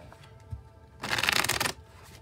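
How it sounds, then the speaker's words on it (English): A deck of tarot cards is riffled in one quick, close burst of crisp fluttering slaps lasting under a second, with quiet room tone before and after. "I'll shuffle till the deck feels ready"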